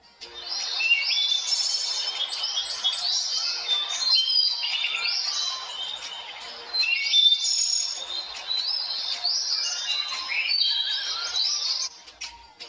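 Many birds chirp and tweet continuously, bright overlapping calls forming a steady natural chorus with no one talking.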